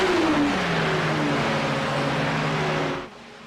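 Race car engines drone loudly during the 24 Hours of Spa endurance race, a steady roar with falling engine pitch as cars pass, then cutting to a quieter hum.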